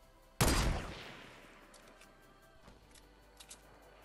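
A single loud gunshot in the Fortnite video game bursts out near the start, its echo fading slowly, followed by faint scattered distant pops.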